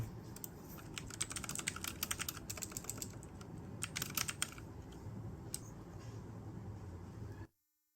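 Keys clatter on a computer keyboard in quick, uneven bursts over a steady background hum, the taps close and moderately loud before stopping abruptly near the end.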